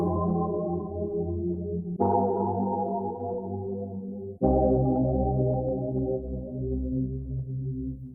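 A synth key one-shot sample from a dark R&B kit plays three sustained, harmonically rich chords that decay slowly, each struck anew, with no other sounds.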